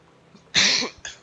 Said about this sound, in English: Don't mean to be coughing like this